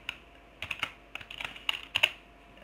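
Light, quick keystrokes tap on a computer keyboard in short irregular clusters, close and quiet, with no voices.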